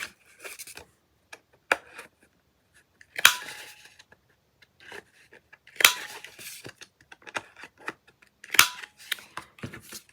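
Sharp scissor snips rounding the corners of a paper journal pocket, heard as several separate crisp cuts spaced irregularly across the stretch, close and fairly loud, with light paper handling between them and no talk.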